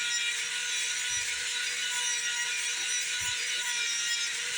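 Dremel polishing guitar frets: a steady, high-pitched rotary whir held at constant level throughout, with faint low rubbing touches of the tool against the fret.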